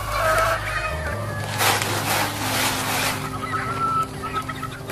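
Chickens cluck and murmur nearby around feeding time, a loud, busy mix of overlapping calls with a low mechanical hum underneath.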